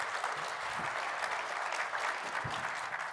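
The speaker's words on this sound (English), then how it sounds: "Another round of applause," Applause from a television studio audience at a panel discussion on rural homelessness in Ontario, a dense, even wash of clapping sustained throughout at moderate level with no voices.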